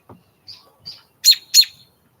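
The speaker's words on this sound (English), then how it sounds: "You hear the birds chirping" A few short bird chirps and tweets ring out one after another against quiet, ending with two louder, sharper calls close together.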